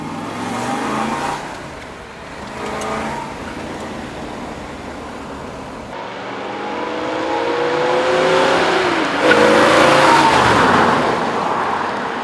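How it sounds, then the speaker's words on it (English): A 1967 Corvette Stingray L79 with a 350-horsepower engine revs and accelerates steadily, the deep roar climbing in pitch through several gear changes, loud and close, with no talking. "67 Corvette L79, 350 horsepower."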